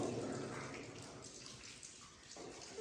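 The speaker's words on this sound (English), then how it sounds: "It's a little bit trickly with water." Faint, steady trickling water inside the disused Hamershill railway tunnel between Thornton and Keighley, with a hollow, reverberant wash, no voices, continuous and low throughout.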